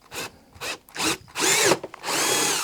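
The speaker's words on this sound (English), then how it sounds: "Seems a bit brutal drilling a big hole like that in" A power drill boring a 6mm hole for a blind nut in a VQ Models Spitfire model cowl, several short bursts of whining drilling and grinding into the material, close and loud with brief pauses between.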